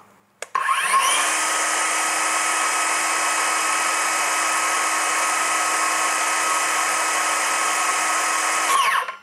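A Dongcheng DCMY02-185 cordless circular saw, a single-speed tool rated around 5,000 RPM, spins up after a click and holds a steady, loud high-pitched whine with no load for about eight seconds before cutting off.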